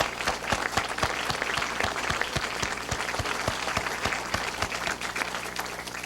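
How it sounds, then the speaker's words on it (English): A company team's audience breaks into steady applause, many hands clapping in a full, sustained wash with a few louder nearby claps standing out, continuing evenly to the end with no speech over it. "I think you all deserve a round of applause."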